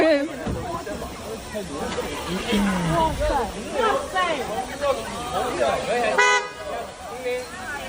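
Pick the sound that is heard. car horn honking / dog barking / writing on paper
car horn honking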